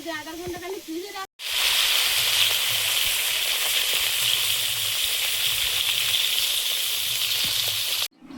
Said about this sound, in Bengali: কই মাছগুলো লবণ হলুদ মিশিয়ে ভেজে নেব।